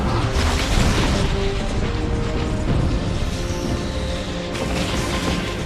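A meteor crashes down in the video game Dota 2 with a sustained, heavy rumbling roar and crunching impact noise, loud and continuous for several seconds with a fresh burst near the end.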